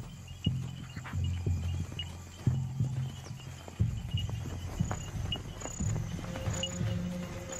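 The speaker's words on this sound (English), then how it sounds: "Zebras are all around, yet the zebras have no idea there is a predator in their midst." Zebras walking on open ground in the wild, a series of soft, irregular hoof thuds close by, with insects chirping faintly in the background.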